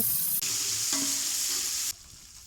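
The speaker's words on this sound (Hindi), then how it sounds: "और अब लाल टमाटर शामिल करेंगे।" Tomatoes dropped into a pan of frying biryani masala with garlic and green chillies, giving a loud, steady sizzle with stirring scrapes throughout, then quieting sharply near the end.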